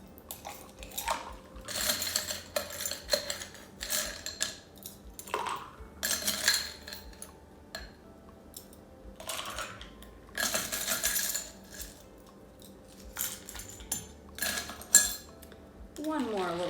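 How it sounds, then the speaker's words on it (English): A pineapple Perrier drink stirred in a glass, with repeated bursts of metallic spoon clinks and rattles against the glass, close and moderately quiet, separated by brief pauses. "Give that a little stir before we add our ice."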